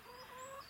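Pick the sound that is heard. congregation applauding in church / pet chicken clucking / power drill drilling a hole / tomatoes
pet chicken clucking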